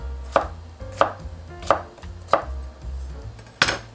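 A knife chopping skin-on washed potatoes on a cutting board, five sharp, evenly spaced thuds about two-thirds of a second apart, close and clear with no voices.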